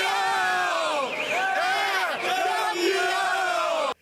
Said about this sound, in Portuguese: Nas ruas teve muita festa dos atleticanos, que soltaram o grito de campeão mais uma vez.